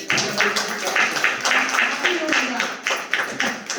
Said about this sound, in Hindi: जोरदार ताली के बीच में